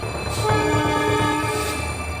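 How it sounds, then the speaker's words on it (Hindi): A fast-moving train passing on tracks sounds its horn in one sustained, loud, close blast, with a rumble of the rails underneath. "पटरियों पर तेज रफ्तार ट्रेन दौड़ी भागी आ रही है, हॉर्न पर हॉर्न बजा रही है"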